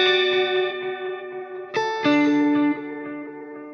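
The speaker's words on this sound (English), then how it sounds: "Then the tape is going to add a lot of artifacts, a lot of imperfections." An electric guitar runs through a tape delay, and its sustained notes and a struck chord repeat with wobbly, slightly warped echoes that fade gradually, heard clearly and alone.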